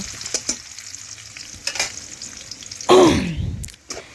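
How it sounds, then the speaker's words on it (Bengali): Crushed garlic fries in oil in a wok, soft sizzling with repeated spatula scrapes, then a louder burst of hissing near the end. "এখন নাড়াচাড়া করে রসুনটা একটু বেশ লাল লাল করে ভেজে নেব"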